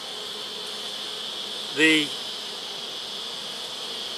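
A honeybee colony hums in a steady, high-pitched drone throughout, with one brief louder buzz as a bee passes close, and a voice speaks a word at the start.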